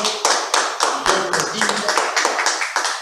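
A classroom audience clapping for a classmate, a small group's claps heard as distinct, fairly loud individual hits in an uneven rhythm across the whole stretch.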